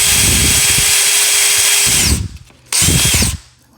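A power drill bores holes in wood for a chicken coop door, whining loudly and close for about two seconds, pausing, then drilling again in a second shorter burst.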